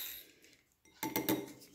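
A utensil clinks and scrapes against a bowl while mixing homemade moisturizing cream ingredients, a few quiet taps followed by a brief burst of louder, close clattering strokes.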